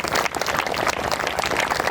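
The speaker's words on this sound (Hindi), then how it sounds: "इनके लिए भी एक जोरदार तालियां हो जाए।" Audience applause at an award ceremony at a Hindu temple site in India, a brief dense wash of many hands clapping at once, loud and continuous.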